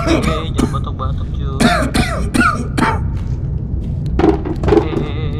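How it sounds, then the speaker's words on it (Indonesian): Several bursts of harsh coughing and throat clearing come close and loud during horror-game play in Home Sweet Home, with sharp irregular hacks and a voice speaking between them. "Jangan batuk-batuk"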